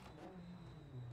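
A Group B rally car engine in the video game Dirt 2 revs and hums at low volume with a shifting pitch, heard faintly with no talking.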